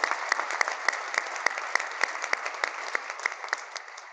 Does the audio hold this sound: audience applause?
yes